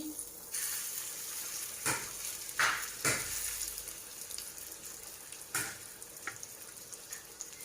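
Masala-coated bangda fish fries on a hot tava griddle, a steady sizzle with a few louder crackling bursts and scraping sounds over several seconds.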